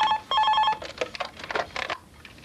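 A mobile phone rings in a home, loud electronic tonal ring bursts repeating close by, followed by a rapid trill of shorter ringing pulses that stops abruptly.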